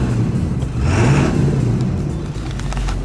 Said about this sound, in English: I mean, it's idling just fine